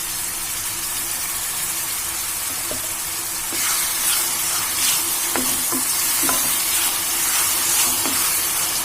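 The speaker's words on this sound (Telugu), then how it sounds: "ఇందులో కొద్దిగా సాల్ట్ వేస్తున్నాను త్వరగా మగ్గిపోతుంది టమాటాలు" Tomatoes cook with salt in a pan, a continuous loud hiss of frying with a few light stirring clicks and scrapes scattered through the second half, close up with no talking.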